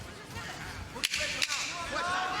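A ten-second warning clapper sounds at a 135-pound championship boxing match, two sharp wooden claps about half a second apart cutting through crowd noise and ringside commentary.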